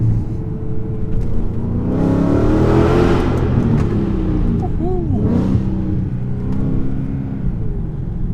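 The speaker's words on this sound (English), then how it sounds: "So this is what this Mercedes C63 is supposed to sound like." A deep 6.2-litre V8 engine of a 2014 Mercedes C63 rumbles and revs up in a loud swell, then settles back to a throaty idle, with a brief burst of talk over it.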